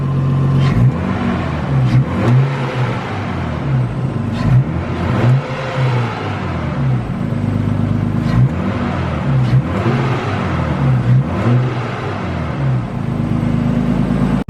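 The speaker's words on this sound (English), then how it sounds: "Just gonna let the Skyline warm up for a good 7-10 minutes and we'll start playing around with the throttle" A Nissan Skyline fitted with a Go Fast Bits Respons blow-off valve revs repeatedly after warming up, its loud engine climbing and dropping in a steady series of throttle blips with no talking.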